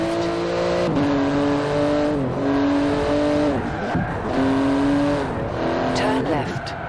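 A 700-horsepower 3.8-litre twin-turbo flat-six road car with carbon-fibre bodywork is driven through Edinburgh in Forza Horizon 4. The engine note climbs in pitch, then drops back at each gear change, in loud, continuous repeated pulls.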